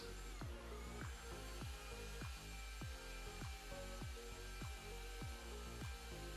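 A steady electric buzz of a power sander, with regular scraping strokes against wooden edges repeating about every half second.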